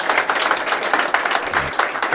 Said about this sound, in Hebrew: מגיע לו הרבה מחיאות כפיים רבותיי